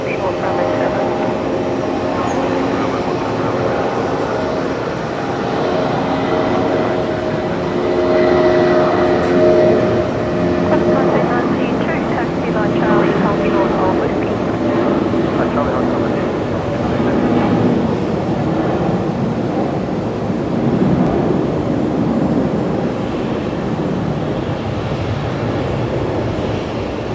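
A Jetstar Airbus A321 departs Brisbane Airport as a steady, broad jet roar that swells and holds for nearly half a minute at moderate distance, with a faint voice talking underneath.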